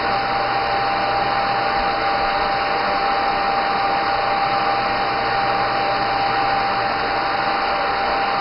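A hair dryer blows steadily and loudly at close range while drying natural hair after a roller set, with a constant whirring hum and airy rush and no pauses.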